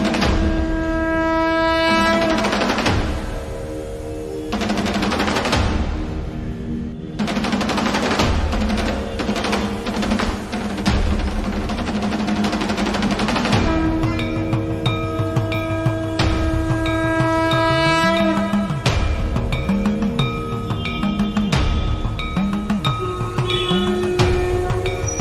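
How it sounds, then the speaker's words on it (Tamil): Trains at Haridwar railway station: a loud, continuous blend of sustained horn-like tones and rolling rumble, with sharper clanks and shifting pitches throughout. "இதே ஹரித்வார் ரயில்வே ஸ்டேஷன்."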